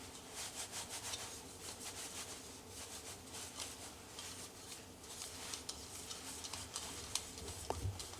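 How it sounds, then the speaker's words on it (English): A cloth rubs Renaissance microcrystalline wax polish onto the inside of a wooden piece. A soft, continuous rubbing swishes in quick even strokes, close and quiet, with nothing else heard. "Put a little what they call Renaissance wax, a microcrystalline wax polish on the inside"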